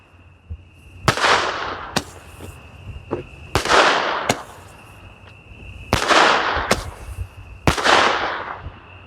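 Roman candle fireworks firing outdoors, a series of sharp loud reports spaced a second or two apart, some followed by crackling tails, over a quiet background with a faint steady tone.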